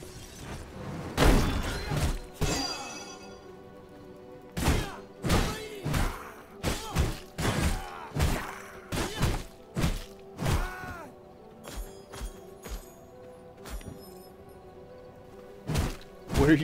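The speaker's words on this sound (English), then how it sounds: "put it in front of the gates and you smack it and it goes ba-boom" In the V Rising game, an explosion box is smacked in front of bandit gates, setting off a series of loud thumps, cracks and shattering bursts in quick, uneven runs over a faint steady tone.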